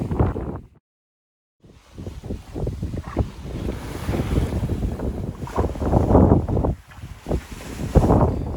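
Strong wind at sea aboard a sailboat roars loudly and steadily into the microphone with wave wash, broken only by a brief silent gap near the start.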